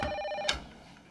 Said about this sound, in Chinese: 你就不能接一下电话吗？